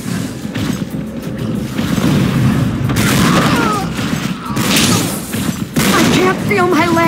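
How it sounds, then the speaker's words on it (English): Heavy weapon fire and explosions in a capture-the-flag match of Unreal Tournament III, dense loud booms and crashing blasts throughout, with in-game voices and announcer calls over the top. "I'm taking heavy fire!"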